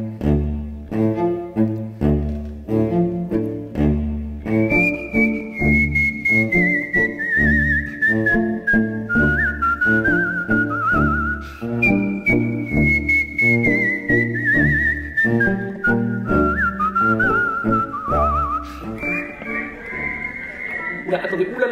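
A man whistles a classical melody in long sliding tones over a loud string quartet accompaniment, the strings playing steady rhythmic chords throughout.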